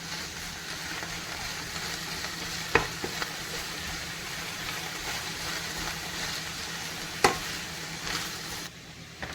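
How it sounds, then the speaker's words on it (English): Seafood and green onions crackle and sizzle steadily in a hot pan while being stirred, with a couple of sharp utensil clinks against the pan and no voices. "Now I'm going to mix it around a little bit."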